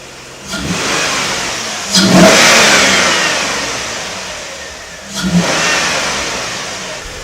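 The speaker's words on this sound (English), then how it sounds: "Want to give it a few revs?" A Ford Capri's V6 engine revs up twice, each burst of acceleration swelling loudly then easing back toward a steady running drone, close by.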